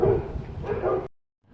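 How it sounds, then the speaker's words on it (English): Dogs barking outdoors, a burst of loud yapping for about a second that cuts off into silence, with faint sound returning at the end. "My dogs are out here. I hope it's not making too much noise."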